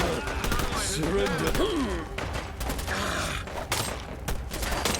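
Gunfire in the video game Fallout London during a battle: sharp shots crack over a dense mix of game noise while a voice calls out.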